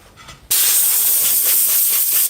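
A compressed air line blasting onto a wood slice during wood burning: a sudden loud, steady hiss that starts after a brief quiet moment and holds strong until near the end.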